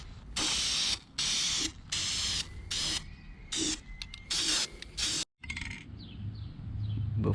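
Spray paint applied as a medium coat to BMW E30 subframes, close bursts of aerosol hiss in repeated pulses with short gaps, followed by softer handling noises.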